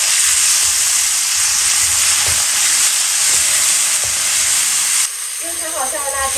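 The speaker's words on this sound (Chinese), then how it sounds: "加入调好的料汁，再大火翻炒均匀" Pork belly with scallion, ginger, chili and sauce is stir-fried over high heat in a wok, giving a loud, close roaring sizzle with scraping stirs that drops suddenly to a softer hiss near the end.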